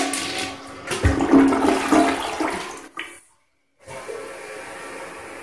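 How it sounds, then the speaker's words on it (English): An American Standard H2Option toilet runs its small flush, a loud rushing swirl of water lasting about two seconds, then a sharp drop to near silence before a softer hiss of the tank refilling. "this will be the small flush"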